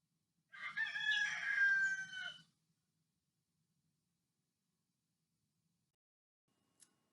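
A single rooster crows once, clear and fairly soft, lasting about two seconds, followed by near silence and one faint click.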